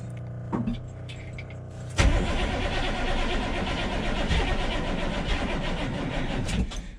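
A 6.2 engine cranks over on a battery charger with a low whirring starter sound, then catches around two seconds in and runs loud and rough for several seconds before cutting off.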